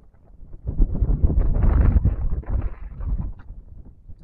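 Strong wind buffeting the microphone while fishing with a 20 gram micro jig on ultralight casting gear, a low rumbling gust that swells for a few seconds and then eases, with no voices.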